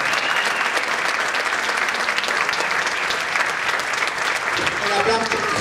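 Spectators at a dance gala applaud the performers with sustained, full clapping and crowd noise, steady throughout, with a voice coming in faintly near the end.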